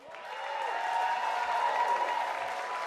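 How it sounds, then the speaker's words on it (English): A stadium-style crowd gives a standing ovation for a football team's all-time points leader, a kicker, with broad, steady applause swelling in and holding at moderate loudness. "We need one more big round of applause for the Packers' all-time points leader"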